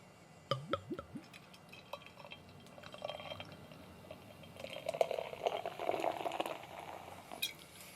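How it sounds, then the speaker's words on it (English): Minerva Linea Maestra beer poured from a bottle into a glass, with a few early clinks and drips, then a rising gurgling splash of liquid filling the glass, close and clear with no talking. "let's see how this one pours, shall we?"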